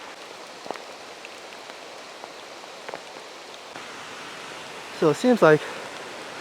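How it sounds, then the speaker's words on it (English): Kanching Waterfalls in Malaysia rush steadily as a broad, even wash of water noise in the background. Someone speaks briefly over it near the end. "this is the waterfall down here"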